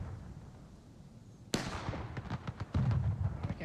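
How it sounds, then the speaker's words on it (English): Cannon fire from an artillery battery barrage in the War of Rights game: one sharp, loud blast, then a quick rolling series of booms and cracks, with a single brief spoken word. "So battery just rolling a barrage now."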